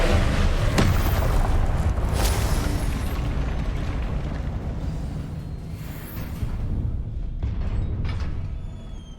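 A Confringo explosion spell from Hogwarts Legacy bursts with a loud, rumbling boom and sharp crackles, followed by a long roaring tail of debris and smaller pops, with no talking.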